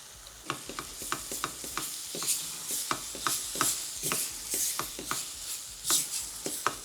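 Tomato paste and spices frying in a pan for a long bean and potato curry, with close stirring scrapes and a steady sizzle underneath, repeated strokes coming in a quick, regular rhythm.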